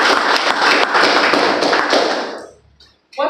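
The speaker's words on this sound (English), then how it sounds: "So once again, let's give a round of applause to Dan." Loud, close audience applause at a youth entrepreneurship outreach event, dense clapping for over two seconds before it quickly fades out, then a voice starts speaking.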